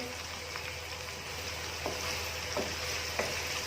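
Chicken karahi sizzles steadily in a pan with cumin and coriander powder, a continuous crackling fry with a few faint stirring clinks, no voices.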